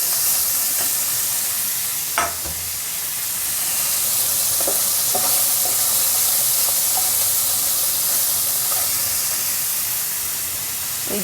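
Fish frying in a pan, with a loud, steady hissing sizzle throughout, a few sharp pops and utensil taps scattered over it, and no voices.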